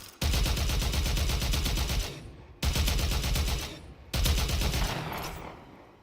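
Sustained rapid automatic gunfire in the video game Warframe, three loud bursts of a couple of seconds each with brief pauses between, close and dense, with no talking.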